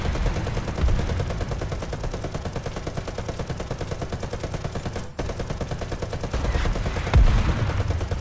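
Sustained rapid gunfire from tank guns in War Thunder, a dense, loud stream of regular shots that runs almost the whole clip with a brief break near the middle and a heavier report toward the end.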